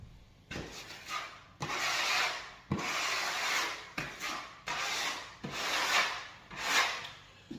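Drywall joint compound, hardened easy-sand type, being sanded by hand in repeated long scraping strokes, each a loud, close, gritty rub separated by brief pauses, with no talk.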